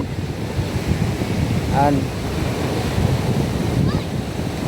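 Strong wind and sea waves roar steadily along a coastline, a loud constant wash with microphone buffeting, while someone speaks briefly under the noise.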